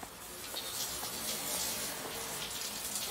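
Water running from taps in a bathhouse horror video game, a steady faint hiss of flowing water throughout, alone without talk.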